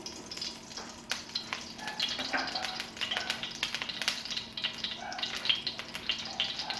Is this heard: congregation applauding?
no